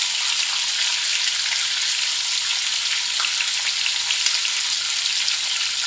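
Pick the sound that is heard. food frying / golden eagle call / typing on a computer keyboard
food frying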